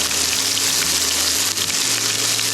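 A Cantonese-style hamburger patty pan frying, with a steady, loud broadband sizzle and hiss running throughout and a low hum underneath, no voices.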